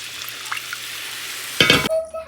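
Water poured into a pan of sizzling paneer masala, a low frying hiss that bursts into a loud, brief, close gush and crackle before settling, with no talk.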